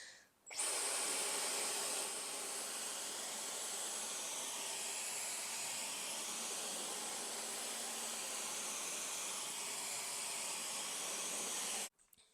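A Dyson V15 cordless vacuum cleaner fitted with its laser cleaning head starts up abruptly, then runs as a steady, loud airy whoosh with a high motor whine for about eleven seconds before cutting off, close by with no talk.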